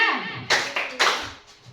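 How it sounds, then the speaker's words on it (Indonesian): Three sharp group hand claps ring out in a quick pattern in a room during a classroom-style session, each a crisp burst that decays fast, with a faint trailing clap at the end. "Tepuk tangan 2"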